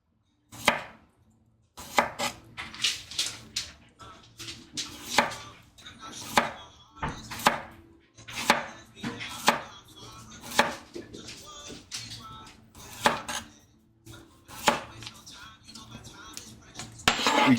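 A knife cuts thin slices on a cutting board for homemade quick pickles. The crisp thuds come close and in irregular bursts throughout, with brief pauses between runs of cuts.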